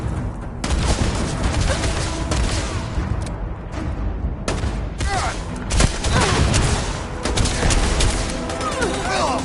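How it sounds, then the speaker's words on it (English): Gunfire in the video game Starfield: dense, loud volleys of shots and booms in rapid succession, nearly continuous with brief lulls, with voices heard amid the shooting. "Just shoot everything!"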